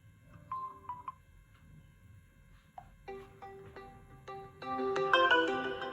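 A realme Note 50 phone plays its ringtone through its stereo speaker: a few soft chiming notes at first, then a brighter melodic phrase that builds louder toward the end.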